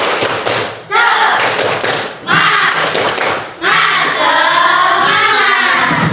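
Schoolchildren in a classroom clap out a rhythmic spirit-clap routine, loud and close, in three patterned bursts with brief pauses, the last one longer, amid lively voices.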